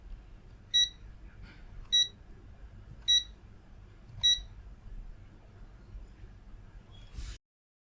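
A cheap ANENG or UNI-T multimeter in continuity mode gives four short, bright electronic beeps at a steady pace about a second apart, close and clear over a faint low hum.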